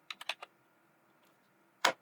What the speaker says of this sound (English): by typing host name